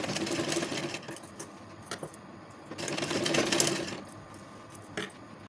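A sewing machine runs in bursts, stitching piping along the edge of a lined kurti, with a steady mechanical whir swelling and easing between short pauses, close and moderately loud with no talking.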